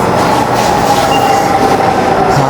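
Dhaka metro rail train at Uttara station, a steady loud rumble and rolling hum with a faint wheel squeal, continuous and close throughout with no talking.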